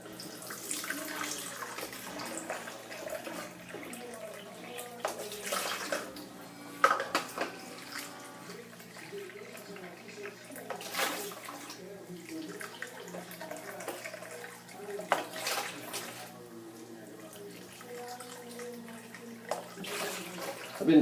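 Sanitizer liquid pouring from the spigot of a Mr Beer keg into a pan, a steady watery trickle and splash running continuously at moderate level, with a few brief louder knocks.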